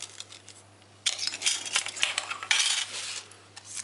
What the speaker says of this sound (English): this is the standard cutlery set, knife, fork, spoon